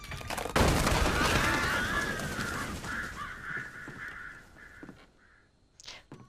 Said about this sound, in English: Wow, that was a lot of crows.